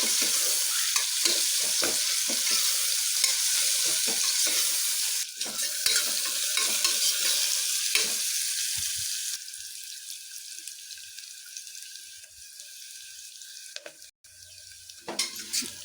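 Onions fry in a pan for vangi rice bath, giving a steady, close sizzle with occasional stirring scrapes. Later the frying quiets to a softer hiss, ending with a few clinks.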